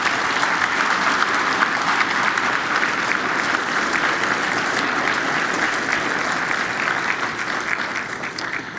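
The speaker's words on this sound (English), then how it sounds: "Another round of applause for Judge Oldham" Sustained applause from a lecture audience at a memorial lecture, thanking a judge, a steady dense wash of clapping that holds loud for the whole stretch and eases slightly near the end.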